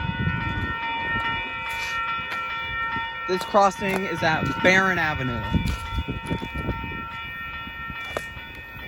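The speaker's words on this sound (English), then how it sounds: "there's the rail starting to sing, and there's an Amtrak" An Amtrak passenger train passes a railroad crossing at Barron Avenue, its horn a steady, loud sound through the whole stretch while someone talks over it partway through.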